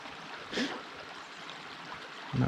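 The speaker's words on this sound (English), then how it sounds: "this is our second creek crossing" A creek flows at a hiking trail crossing in the Mount Baker backcountry, a soft, steady water rush heard faintly and continuously, with a couple of brief louder splashes or bumps near the start and end.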